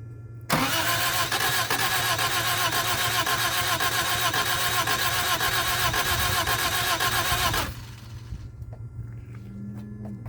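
A 1978 Honda Civic left sitting for 26 years cranks hard for about seven seconds, a loud, steady, rapidly pulsing starter churn up close, then cuts off abruptly to quiet.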